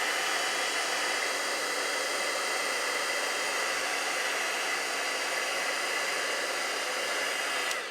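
Heat tool blowing hot air to warm hot glue for embossing, a steady, even whoosh that runs unbroken and fairly close, with no voices over it.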